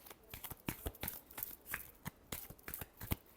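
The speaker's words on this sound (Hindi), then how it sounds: "Last shuffle." A deck of tarot cards is shuffled by hand in a quick, even series of crisp riffling flicks, close and fairly quiet.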